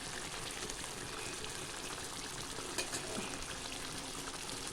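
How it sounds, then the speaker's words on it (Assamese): Food sizzles in a pan with a faint, steady frying hiss that carries evenly across the whole stretch, heard alone without voices. "ভালকৈ ভাজি ল'ব লাগিব।"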